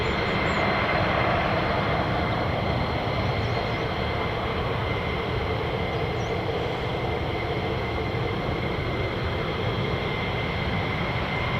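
A US Air Force F-15E Strike Eagle jet of the 48th Fighter Wing at an RAF base gives a loud, continuous, steady roar that fills the whole stretch without letup, with no talking.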